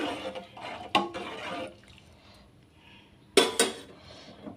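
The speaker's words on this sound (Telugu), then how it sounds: "ఇప్పుడు బియ్యాన్ని యాడ్ చేసుకోవాలి కలపాలండి" Rice tipped into a pot and stirred for sweet pulao, heard as a few sharp metallic clinks and rattles of a spoon against the pot, with a quieter pause in between, no voices.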